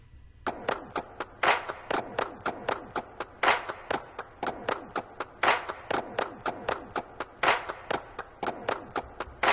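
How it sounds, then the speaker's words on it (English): A tuned clap sample loops in a beat at 120 BPM, sharp bright claps repeating in a steady rhythm, with some heavier accented hits and short decays between them. No voices are heard over it. "So what I actually had to do was tune these claps to match the tempo"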